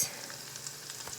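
Potato pancakes stuffed with flank steak and cheese fry steadily in a pan, giving a close, even sizzle that holds for a moment with faint crackles and no talk.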